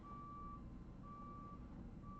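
A truck's reversing alarm beeps outside, faint and distant, in a steady repeating pattern of long tones over low background hum.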